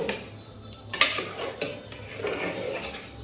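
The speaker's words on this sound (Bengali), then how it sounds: "এখন আমি গ্যাসের ফ্লেমটা অফ করে দিয়ে এই ঘিটা খিচুড়ির সঙ্গে ভালো করে মিশিয়ে নেব।" Spoon scraping and knocking against a metal pot while ghee is stirred into lentil khichuri, a few sharp clinks and rasping strokes at moderate, close level, no talk.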